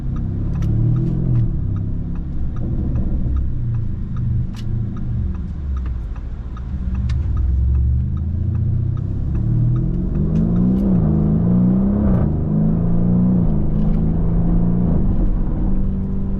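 A 2025 Lamborghini Urus SE accelerates and downshifts, its engine rising and dropping in pitch through several gear changes with sharp pops and crackles, loud and continuous, no talk.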